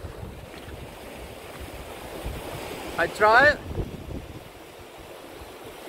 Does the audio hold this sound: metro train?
no